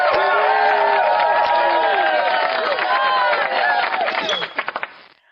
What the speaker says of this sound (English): Give him the high budget applause for that.